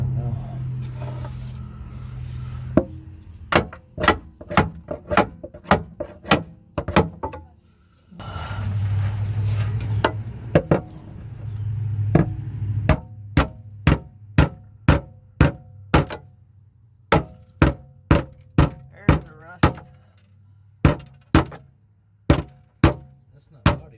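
Repeated sharp hammer strikes on the rear suspension lateral arm of a 2005-09 Buick LaCrosse, close and loud, coming in irregular bursts then a steady run of blows, with some talk in between.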